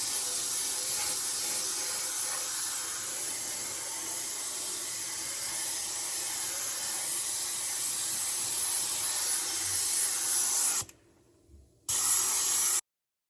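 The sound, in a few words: airbrush spraying liquid mask onto a body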